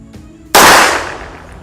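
A single sharp, loud shot from a Fox Hunter 9 mm rubber self-defense pistol at target practice, a crisp bang followed by a short decaying ring-off.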